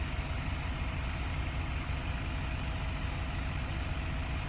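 Tractor engine in a farming game runs steadily during crop replanting, a continuous loud low idling rumble with no voices.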